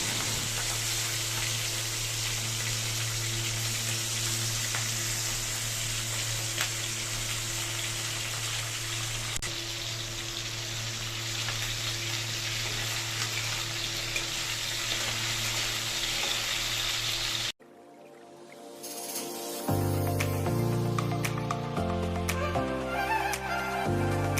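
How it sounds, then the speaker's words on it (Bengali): Loud, steady sizzling of small fish frying in hot mustard oil, crackling continuously up close, then music abruptly takes over for the last few seconds. "কড়াইতে সর্ষের তেল নিয়ে তেলটা গরম হলেই কিন্তু মাছগুলো দিয়ে ভালো করে আমি ভেজে নেব"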